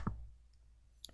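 A computer mouse gives one faint, sharp click near the start, with a second soft tick about a second later, in an otherwise quiet room.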